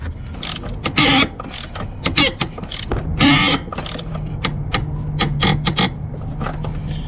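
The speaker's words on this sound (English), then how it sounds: "Now I'm going to put the -6 fitting on and then pull the sleeve forward to thread into it so we can compress that brass." Wrench tightening a -6 fuel line fitting onto a brass sleeve on a Honda CRX, close rhythmic metallic clicks and ratcheting scrapes in short bursts over a low background hum.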